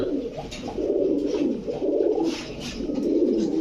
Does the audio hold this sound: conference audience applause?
no